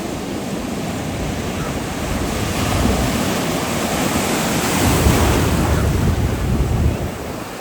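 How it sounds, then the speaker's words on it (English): Ocean surf rolling in at Smiths Surf Beach, a steady, loud wash of breaking waves with a swell around the middle, mixed with wind rumble across the microphone; no one speaks. "Let's check out these waves."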